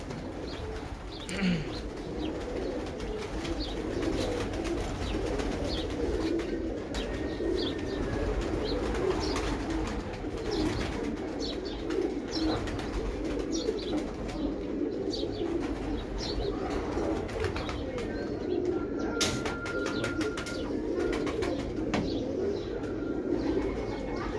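Many pigeons coo continuously nearby in a low, throaty murmur, with occasional chirps and brief wing flaps.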